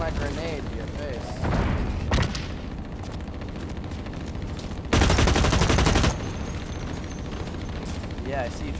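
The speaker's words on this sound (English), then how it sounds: "take my grenade to your face" Grenade blast and rapid gunfire in the online shooter Blacklight: Retribution during a capture-the-flag match, with two loud broadband bursts standing out over a constant din of shooting and game noise.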